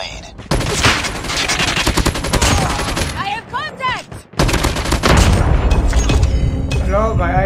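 An RPD light machine gun firing in Call of Duty, loud rapid bursts of automatic fire in two long volleys separated by a short lull, with a voice talking over the gunfire.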